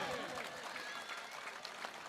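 A crowd claps steadily and densely in appreciation of Shravan Sathe's performance during a mega-final match, the applause filling the whole moment with a voice faintly audible beneath it.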